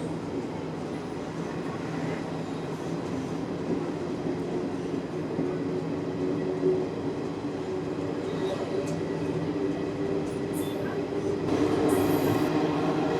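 The 22953 Gujarat Superfast Express runs from Vadodara to Ahmedabad, heard from inside an AC chair car as a steady rumble of wheels and carriage with faint clicks and squeals, and growing louder near the end.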